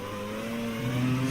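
A Formula 1 car in a 2002 F1 racing video game at the Austrian circuit climbs through the gears, its steady engine note rising in pitch, loud and close with no talk.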